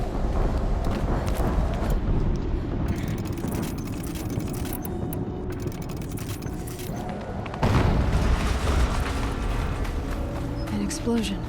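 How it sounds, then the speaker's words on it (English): Explosions in the video game Horizon Zero Dawn: a dense, loud, rumbling blast that roars steadily through the clip, with a heavier burst hitting partway through amid continuous battle noise. "An explosion."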